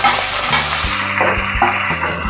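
Chopped vegetables drop into hot oil and fry for poha, giving a loud, steady sizzle with stirring scrapes and small pops running through it, close to the mic with no voices.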